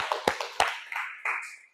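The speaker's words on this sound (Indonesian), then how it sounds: "Oke, tepuk tangan." A classroom audience claps briefly at an Indonesian arts teacher training session, a few sharp separate claps followed by a softer patter that fades out within two seconds.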